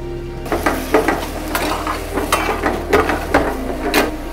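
Boneless chicken bharta with garam masala and cloves sizzling loudly in a hot dhaba pan, with repeated metal spatula scrapes and clanks at an uneven rhythm, close up and without talk.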